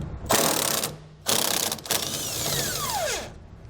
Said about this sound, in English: We're removing these nuts using an 18mm socket.